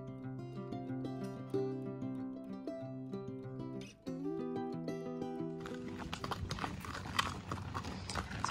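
Horse hooves clip-clop at a steady walking pace on a trail ride into the North Fork River Ranch near West Plains, Missouri, faint beneath a sustained tonal background that turns noisier partway through.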